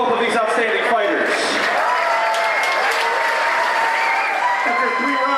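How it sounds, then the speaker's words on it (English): Boxing crowd applauding both fighters after a three-round bout, a dense steady wash of clapping and cheering that fills the whole stretch, with an announcer's amplified voice talking over it. "Ladies and gentlemen, a big round of applause for both of these outstanding fighters."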